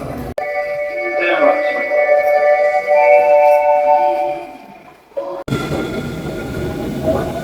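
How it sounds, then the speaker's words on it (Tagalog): Hankyu line train standing at platform 2 in Osaka, its electric hum and tonal whine steady and fairly close, then a sudden shift to broader rumbling noise as it moves; a voice is heard briefly. "The train on platform 2 is bound for 新大阪"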